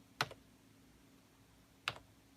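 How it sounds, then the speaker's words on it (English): Two crisp, separate key presses on a computer keyboard used to start a Pong game ring out about two seconds apart, close and clear over a quiet low hum. "when I hit key on the keyboard"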